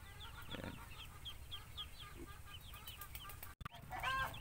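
Newly hatched chicks and young geese in a pen give soft, repeated cheeping and peeping calls at moderate distance. A brief thump and some rustling come near the end.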